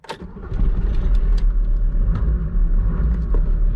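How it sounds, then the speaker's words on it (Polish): A parked car's engine cranks and catches close by outdoors under tree branches in Croatia, then settles at once into a steady, low idling rumble with no talk. "Przeparkuję sobie jeszcze auto do słońca."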